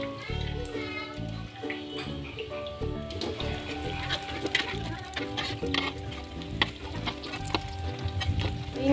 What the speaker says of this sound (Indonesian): Goreng semuanya sampai selesai.